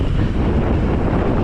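Strong crosswind buffets a mountain biker's microphone in a steady, loud, broadband roar with no letup, the gusting rumble filling the whole moment without any talk.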